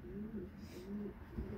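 Pigeons coo softly in a few repeated, low, throaty phrases, close by and fairly quiet against a light background.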